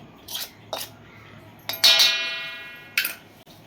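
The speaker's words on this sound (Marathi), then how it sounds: "तेल गरम असल्यामुळं मी चमच्यानं कालवत आहे" A spoon clinks against a metal bowl while hot oil is mixed into puri flour, several sharp taps and one ringing scrape that fades, close and fairly loud, with no talking.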